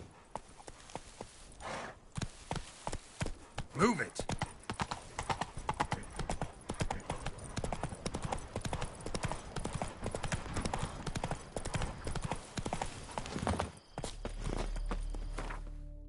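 Hooves of Roach, the horse in The Witcher 3, clip-clop in a steady walking rhythm, close and continuous, with a voice briefly speaking over them before the hoofbeats give way to a low rumble.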